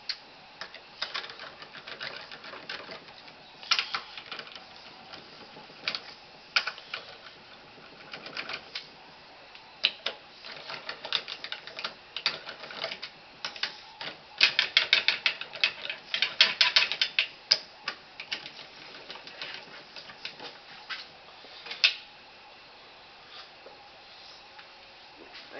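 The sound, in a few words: torquing down transmission valve body bolts with ratchet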